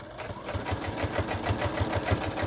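A sewing machine stitches Christmas stocking fabric with a fast, even mechanical chatter, its regular needle beats close and clear, alone without talk.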